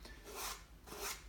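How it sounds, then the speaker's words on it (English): A fingertip rubs black paint into the gaps of EVA foam Batman armour, making two soft raspy strokes that swell and fade, close and quiet with no voices. "I just put my finger in and kind of rub it in those gaps."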